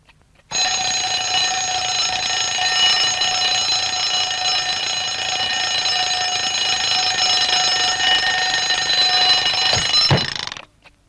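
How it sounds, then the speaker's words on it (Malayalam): An alarm clock rings continuously with a shrill, steady electronic bell tone for about ten seconds, loud and close, then abruptly stops; no voices accompany it. "ഇതെന്തിനാ ഇപ്പൊ അലാറം അടിക്കുന്നു?"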